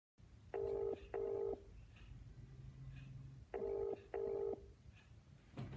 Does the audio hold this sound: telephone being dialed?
yes